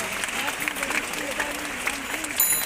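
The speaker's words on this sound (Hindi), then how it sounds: "तालियां बजती रहना चाहिए।" An audience at a free bicycle distribution event for students keeps clapping steadily, a moderate crowd applause with a faint tonal hum and some background voices.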